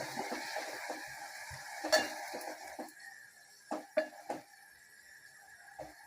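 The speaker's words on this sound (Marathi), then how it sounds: "एक 5-6 मिनटं आपण हा टोमॅटो कांद्यामध्ये परतून घ्यायचा आहे बारीक गॅसवर" Tomatoes and onions fry together in oil on a low gas flame, with a gentle sizzle under sporadic spatula scrapes and taps against the pan, close and fairly quiet.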